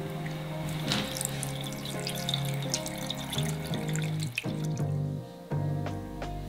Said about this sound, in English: I've got to rinse these plants out because they're actually in this mossy type thing